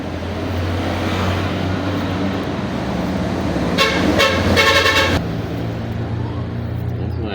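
A few short truck horn blasts in quick succession over a constant roar of roadside traffic, beside a roadside tire repair shop.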